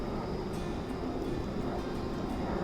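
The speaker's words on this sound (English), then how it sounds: "We hear a little airplane going by, right?" A small airplane passes overhead during an outdoor hike on a sunny day, a steady, broad engine drone held at an even level throughout with no voices.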